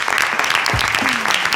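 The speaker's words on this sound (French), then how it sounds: "un tonnerre d'applaudissements pour Madame Maud Alaves" Applause from a studio audience welcoming a guest onto a French comedy show stage, a dense steady patter of many hands that fills the whole short moment.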